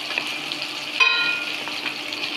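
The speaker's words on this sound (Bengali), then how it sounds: "এই যে তো মাছ ভাজা চলছে" Fish frying in hot oil in a home kitchen, producing a continuous close sizzle with a brief louder spatter partway through, and no talk.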